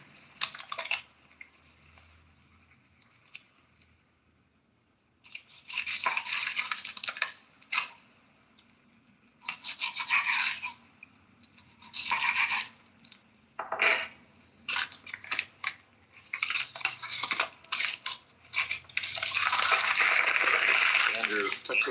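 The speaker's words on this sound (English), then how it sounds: "Okay, Andrew, it sounds like you're eating a bag of chips." Someone crunches through a bag of chips close to the microphone, the crisp chewing and bag rustle coming in irregular bursts that grow denser and louder toward the end.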